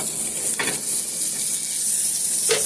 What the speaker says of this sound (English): So now my pan's nice and hot. I'm going to go ahead and add my butter.